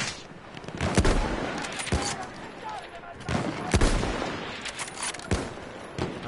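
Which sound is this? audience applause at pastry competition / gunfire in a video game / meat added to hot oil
gunfire in a video game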